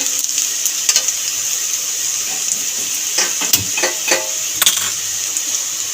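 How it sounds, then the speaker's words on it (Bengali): Garlic and onion browning in oil in a pan give a steady close sizzle, with a few sharp metallic clinks and scrapes from stirring. "রসুন পেঁয়াজ সব বাদামি করে ভাজা হয়ে গেছে"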